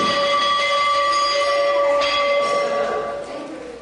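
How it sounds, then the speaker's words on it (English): A single meal bell at Adyar, the Theosophical Society headquarters, rings out loudly with a clear, sustained metallic tone, a second strike briefly overlapping before the ringing slowly fades. "The bell sounds 3 times daily, in the morning, at midday, and in the evening"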